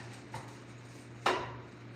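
Knife chopping potatoes on a cutting board in a home kitchen: two sharp chops, a faint one followed by a louder crisp one, close up over a low background hum.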